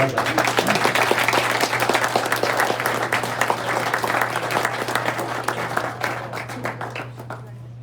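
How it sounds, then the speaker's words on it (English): Rotary club meeting applause from a roomful of people, brisk continuous clapping that tapers off toward the end, over a steady low electrical hum. "Maybe one more round of applause for Bob's 90th birthday coming up."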